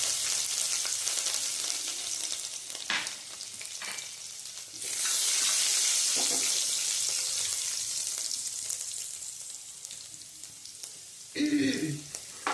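Asafoetida, curry leaves and chopped green chillies dropped into hot oil for tempering tomato rice: a quiet background sizzle that flares into a loud, hissing burst as the ingredients go in, then settles, with a few clinks of a spoon near the end.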